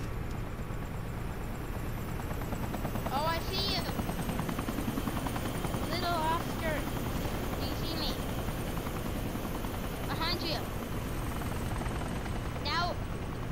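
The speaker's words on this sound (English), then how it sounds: "Came at the helicopter that's starting up." A helicopter starts up in the video game Arma II, its engine and rotor droning steadily and loudly throughout while players talk over it.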